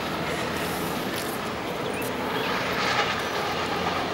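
Train passing close by with a continuous rolling roar of rail wagons, faint clickety-clack and brief high wheel squeals over about four seconds, with no talk.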